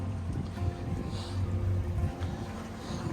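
Boat motoring at idle speed through calm water near Shem Creek, South Carolina, a steady low engine rumble with soft water wash, close and continuous with no other sounds.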